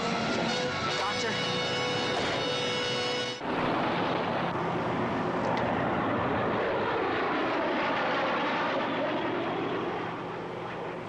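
Jet aircraft passing overhead in a vintage action serial, a loud sustained engine roar that swells and shifts in pitch, dominating with no talk over it.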